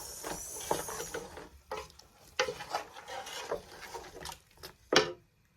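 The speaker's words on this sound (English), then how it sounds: "Gently stir this" A spoon stirs Ghana chicken tomato light soup in a pot, giving soft, irregular scrapes and sloshes that swell and fade, with a sharper stroke near the end and then quiet.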